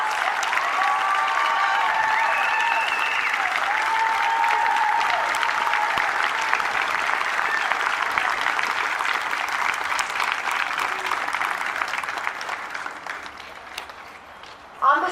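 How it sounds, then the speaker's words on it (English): A crowd applauding veterans at an outdoor Veterans Day ceremony in Pasadena, California, with loud, sustained clapping for about thirteen seconds that thins and fades toward the end. "can we give our veterans a huge round of applause?"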